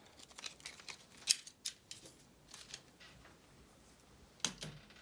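Scissors snip through paper ephemera in a quiet craft setting, a series of short, crisp cuts with scattered sharp clicks and pauses between strokes.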